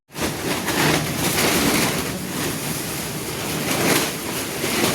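Strong wind roars steadily throughout, a dense rushing noise with gusts swelling and easing, loud and close to the microphone.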